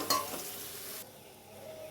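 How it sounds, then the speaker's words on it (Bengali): Potatoes sizzle in hot oil with a scraping stir at the start, the frying hiss continuing softly and close by. "আমি আলুগুলোকে সুন্দর করে নেড়ে চেড়ে ভেজে নেব"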